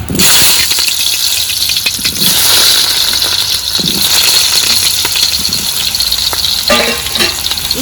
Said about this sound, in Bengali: প্রথমেই ভেজে নেব আলু